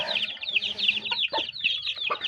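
Shamo chickens cluck low and close while their chicks keep up a constant high-pitched peeping throughout.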